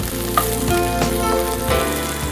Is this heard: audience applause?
no